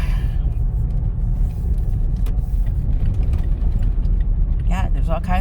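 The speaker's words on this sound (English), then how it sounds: "there's all kinds of cars coming, trucks coming, with boats on them" Cars and trucks, some towing boats, drive past on a bumpy road on Memorial Day, making a steady loud rumble of engines and tires close by throughout, with a person talking over the traffic.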